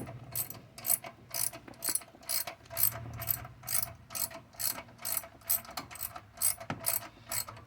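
Ratchet wrench clicking in steady back-and-forth bursts while tightening bolts on a 2006 GMC Yukon during an alternator replacement, close and fairly loud with a low hum underneath.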